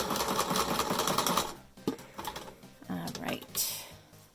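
Sewing machine stitching a fabric face mask with elastic set diagonally between two layers: a rapid, dense run of stitching for about a second and a half, then the machine stops and a person talks with light handling noises.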